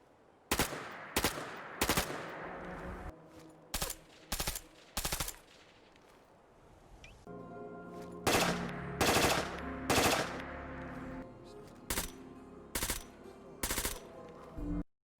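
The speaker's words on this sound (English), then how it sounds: "the G36 New Firing sounds" Modded G36 rifle firing sounds in Fallout 4, heard as loud, sharp bursts of automatic fire in short clusters separated by brief pauses, with a lingering ringing tail after the shots and no talking.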